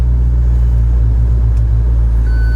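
A McLaren driven flat out in track mode, heard from inside the car as a loud, steady engine drone with a deep rumble that holds constant for the whole moment, with no voices.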